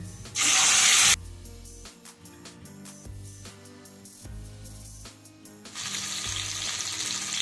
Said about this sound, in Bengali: এবার একে একে মাছগুলোকে দিয়ে দেব আর লাল করে ভেজে নেব